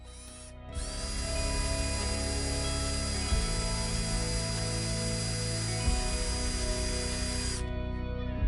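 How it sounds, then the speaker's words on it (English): Power drill boring pilot holes in cheap poplar hobby board for tiny nails, a steady high whine running continuously for about seven seconds with a couple of shifts in pitch as the bit bites, close and alone. "So I pre-drill and then I'll add these tiny nails"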